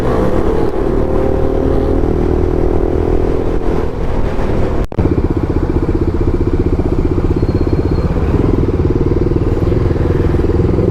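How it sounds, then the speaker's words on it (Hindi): A motorcycle engine drones loudly and steadily throughout a ride, with a brief break near the middle as it enters a tunnel on a Gurgaon–Faridabad highway. "पर आवाज़ तो बाइक की मेरी की ज़बरदस्त है।"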